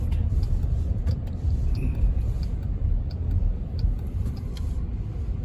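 Jeep Wagoneer with the twin turbo Hurricane inline-six accelerates hard, its cabin filled with a dense, steady engine and road rumble throughout, heard from inside.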